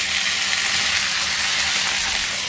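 Vegetables hitting a pan of browned onion tempering for a Bengali rui fish curry with drumstick stalks and bitter gourd, giving a loud, steady, close sizzle and hiss that carries unbroken throughout.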